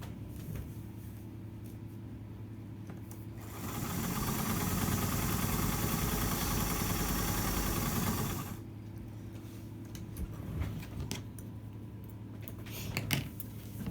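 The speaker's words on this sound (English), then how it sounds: "I'm sewing right along here, 1/4 of an inch, right along here, along my new strip." A sewing machine stitches a quarter-inch seam along a new fabric strip for slippers, giving a steady, loud whirring run of about five seconds between quieter stretches of room noise.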